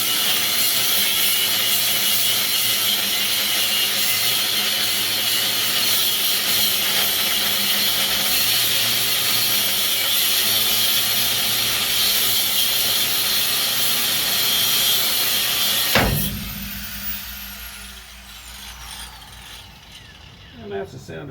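A Dewalt power tool grinds and rattles continuously for about sixteen seconds while breaking loose a bolt on the trailing arm of a 1960-1972 Chevy or GMC truck, then stops abruptly, leaving quieter shop sounds.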